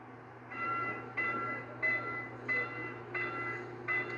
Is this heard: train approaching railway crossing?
yes